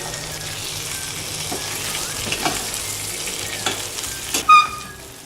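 Chicken frying in a pan with cashew powder, Andhra style: steady loud sizzle with scraping stir strokes and occasional clinks of the spoon against the pan, close up and without talk.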